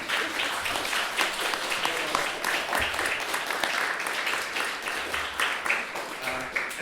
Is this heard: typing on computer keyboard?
no